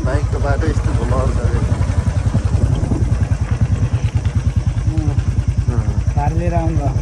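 A motorcycle rides along a winding village road, its engine chugging in a steady, rapid close-up pulse throughout while someone talks over it.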